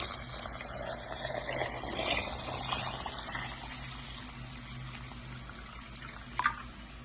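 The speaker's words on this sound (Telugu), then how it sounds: "ఇప్పుడు నీళ్లు వేసి నానబెట్టేస్తా." Water rushes and pours into a container of lentils for soaking, softening to a gentle trickle, ending with a brief clink.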